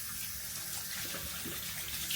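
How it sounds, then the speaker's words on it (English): Tap water runs steadily into a sink while hands are washed under it, a continuous close splashing rush with no talking. "Let me just wash my hands actually."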